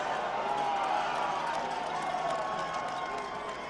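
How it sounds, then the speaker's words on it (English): A high school football crowd at a Division I final roars in a steady, distant wash of cheering and noise, holding fairly even before easing slightly at the end. "A little bit of a roar from the crowd on the replay here."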